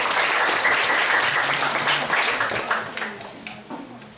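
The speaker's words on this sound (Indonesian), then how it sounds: "tepuk tangan dulu" A group of schoolchildren applauding at a legal-awareness session, a loud burst of clapping that thins and fades toward the end, with a few scattered claps trailing off.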